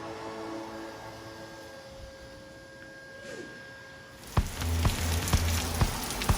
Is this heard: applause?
no